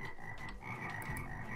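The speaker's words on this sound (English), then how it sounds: "Now, I wanted to just put a couple frogs here." Frogs in a Minecraft game mod croak in soft, repeated low calls over a steady background tone, fairly quiet and with no talking.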